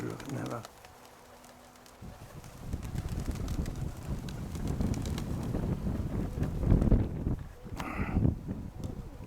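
Gusty wind buffets the microphone in a steady low rumble, rising and falling over several seconds, with pigeons cooing and a voice talking at times.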